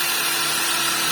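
An electric drill bores a hole through a van's metal roof, a loud, steady high-pitched whine held continuously through a very short burst with no talking.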